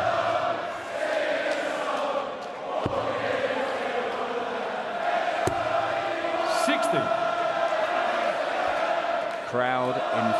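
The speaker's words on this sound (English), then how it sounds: "Crowd in full voice" A darts crowd at the 2017 Champions League of Darts semi-final chants Phil Taylor's name in full voice, a sustained roar of massed singing filling the arena with occasional whistles and shouts.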